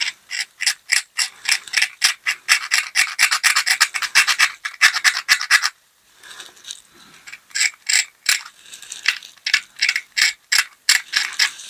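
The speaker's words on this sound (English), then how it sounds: "Wonder if I can just scrape a little bit here and there." Rapid, sharp scraping strokes on a board game miniature come in fast rhythmic bursts, close and loud, then pause briefly before a second run of strokes.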